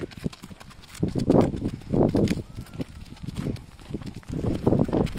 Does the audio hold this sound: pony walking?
yes